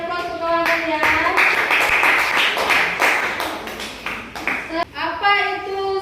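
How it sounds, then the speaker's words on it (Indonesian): Classmates applaud after a student performance in a school classroom, a dense burst of clapping lasting several seconds, with voices and chatter mixed in over it. "beri aplaus untuk kawan kalian"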